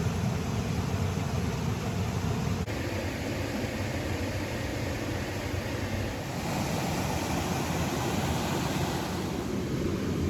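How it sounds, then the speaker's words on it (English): A small waterfall on a woodland river pours as a loud, steady rushing roar with no pause, close by and filling the whole stretch on its own. "I'm probably going to have to speak up because the little waterfall is quite loud."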